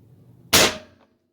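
A single sharp crack from a Hatsan Flashpup .25 air rifle firing a JSB Exact 43-grain pellet, close and loud, with a brief ringing tail before quiet.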